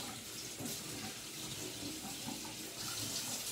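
A water tap runs steadily into a sink for washing with soap and warm water, a close, continuous splashing hiss throughout with no talking.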